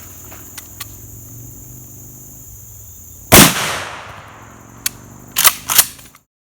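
A 12 gauge shotgun loaded with G2 Research R.I.P. home-defense ammo fires one loud, sharp blast with a decaying tail, followed by a few faint clicks and clatter. Crickets chirp quietly in the background.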